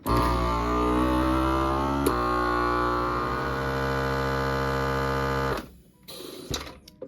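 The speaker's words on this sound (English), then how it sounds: "Turn on your vacuum sealer and hit accessory." A vacuum sealer running with its accessory hose attached to a jar lid, a steady loud motor hum with a high whine that carries on for about five and a half seconds, then cuts out, leaving faint handling clicks.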